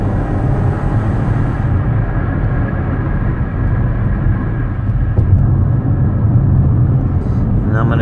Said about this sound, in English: I'm gonna get it out here and give it some gas so you can hear it run